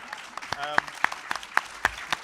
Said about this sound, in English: So can we have a big round of applause